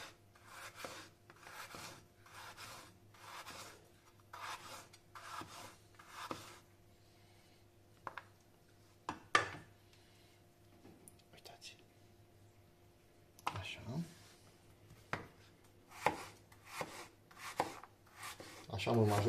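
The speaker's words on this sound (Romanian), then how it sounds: "Așa să tai toți cartofii." Peeled potatoes are sliced on a vegetable slicer in a series of rhythmic rasping strokes, close and moderately loud, pausing briefly before resuming, with soft talk in the background.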